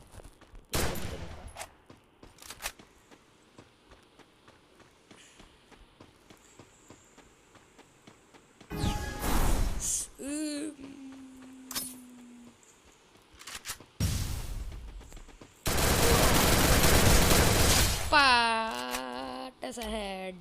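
Bursts of rapid gunfire and weapon effects in the Free Fire Max battle game during a one-on-one pro mode match, with sporadic shots, loud sustained volleys and game sounds alongside a talking voice.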